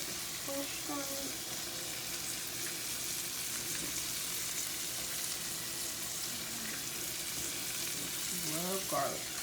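Fresh garlic frying in melted butter as a sauce for lemon pepper chicken wings, a steady close sizzle and crackle running throughout with brief stirring scrapes and no talking.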